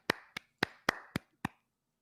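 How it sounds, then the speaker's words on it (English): Six sharp, separate hand claps ring out in a podcast studio at an uneven, slowing pace over about a second and a half, close and crisp, followed by quiet. "Was that you clapping, Rabbi?"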